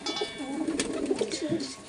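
A Kaldam pigeon coos softly and repeatedly at close range, a low burbling call with some faint background noise.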